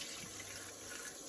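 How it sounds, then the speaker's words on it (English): Cold tap water running and splashing steadily into a sink while a gutted trout is rinsed, a soft continuous hiss of flowing water with no voices. "using cold water, annoyingly it's cold tap splashes, you want to give your fish a really, really good rinse"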